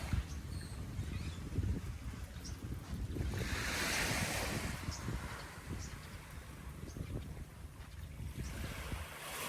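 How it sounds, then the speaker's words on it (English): Ocean waves wash and break in a steady roar, with wind buffeting the microphone and a surge building midway before easing back. "gotta love that sound of the ocean. The waves crashing."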